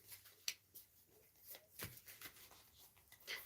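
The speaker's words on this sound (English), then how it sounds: "I'm shuffling a little bit." Tarot cards shuffled by hand, a soft run of papery riffles and slides with light taps, close and fairly quiet, with no one talking.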